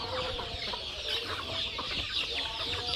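Country chickens on a farm cluck steadily in a continuous, busy chorus of overlapping calls with no talking.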